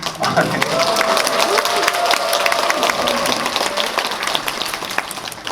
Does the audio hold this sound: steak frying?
no